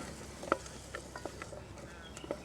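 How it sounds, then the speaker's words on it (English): Food fries quietly in a pan on a Trangia 27 spirit stove outdoors among trees on a windless day. A soft, steady sizzle is broken by a few sharp clicks and taps from stirring. "There's no wind, so the sizzle's on"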